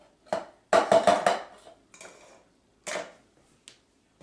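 Corn stirred and fried in a pan gives a handful of sharp scraping clatters, a quick cluster early on followed by a couple of isolated strokes, close up with no talking.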